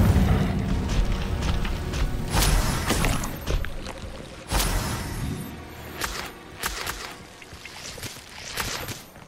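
A fire spell cast in Hogwarts Legacy, heard as a string of loud booming, whooshing bursts with crackling noise, repeated several times across the stretch and mixed with other action sounds.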